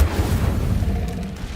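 An Incendio fire spell erupts during Hogwarts Legacy combat as a deep, sustained booming whoosh, loud and close, with no speech over it.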